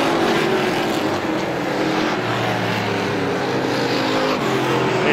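Race cars roar steadily around a speedway oval in a heat race, a dense, continuous loud engine drone with no talk over it.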